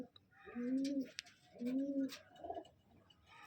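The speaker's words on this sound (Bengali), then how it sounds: "পায়রা দেখুন, পায়রা কাকে বলে।" Madrasi pigeons coo in two drawn-out, rolling calls close by, followed by a shorter softer coo, with faint rustling and no talk.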